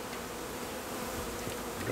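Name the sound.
honeybees buzzing in beehive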